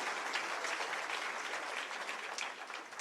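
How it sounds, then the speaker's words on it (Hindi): A crowd at a BJP commemoration event in Rajasthan applauds the Prime Minister with a dense, even wash of clapping that is heard from a distance and sounds faint. "एक जोरदार तालियां प्रधानमंत्री जी के लिए भी होनी चाहिए"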